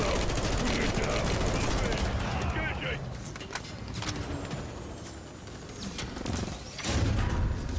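Sustained automatic gunfire aimed at an enemy helicopter in the Call of Duty MWIII campaign mission Reactor, a dense, loud barrage running the whole stretch, with bursts swelling near the end and radio voices under it.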